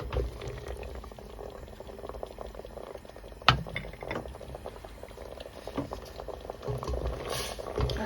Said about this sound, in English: Just got it on a light simmer.